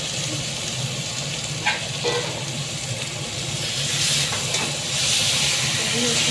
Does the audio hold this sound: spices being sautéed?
yes